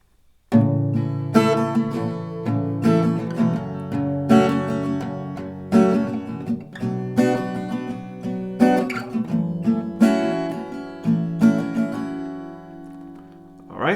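Acoustic guitar strumming the verse chords of a song, steady rhythmic strums with clear chord changes, close and moderately loud with no talking.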